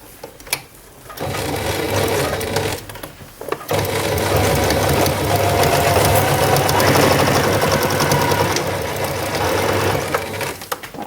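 A sewing machine stitches a fabric basket in loud, steady bursts of rapid mechanical whirring, with a short pause near the start and another about a third of the way in.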